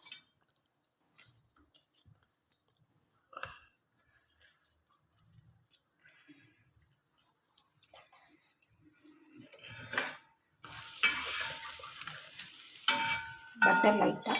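Bread toasting lightly in a pan for a chicken sandwich: near silence with a few faint clicks at first, then a loud, steady sizzle that swells in over the last few seconds, with no talk.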